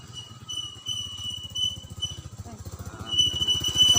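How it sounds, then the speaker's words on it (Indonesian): Bang Opai's motorbike putters along with a low, rapid engine pulse, quiet at first and growing a little louder, while thin high tones whine above it. "Motor Bang Opai itu."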